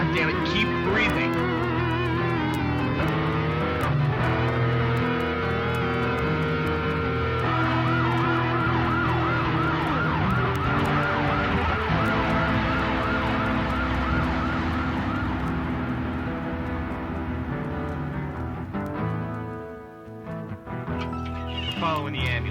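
An ambulance siren wails loud and close in a tense scene, its rising and falling tones layered over dense background sound for most of the span before fading near the end, with voices talking over it.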